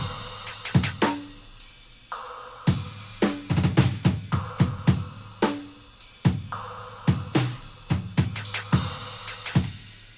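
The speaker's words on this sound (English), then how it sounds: "All together, the drums sound like this." A full drum kit plays a steady groove, kick and snare punching in a regular rhythm with cymbal hits scattered throughout, close and clear with no voices.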